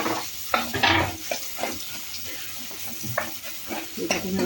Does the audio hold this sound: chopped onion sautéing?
yes